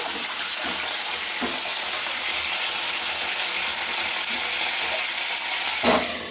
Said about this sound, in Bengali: আমার মা তেল বসিয়ে দিয়েছে, এখন আমার মা ডিম ঢেলে দিচ্ছে।